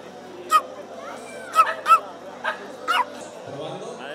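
A small dog barks and yips in several sharp bursts at a Valencian pet blessing for the feast of San Antonio Abad, close by, with people chatting in the background.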